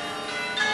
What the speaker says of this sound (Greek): Θα περιμένουμε να τελειώσει η καμπάνα.